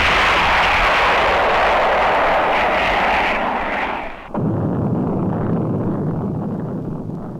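An atomic weapon test explosion at Yucca Flats, Nevada, in 1957: a vast rushing, roaring blast with dense broadband rumble, cut by a sharp shift into a deeper sustained low roar that slowly fades, distant and alone.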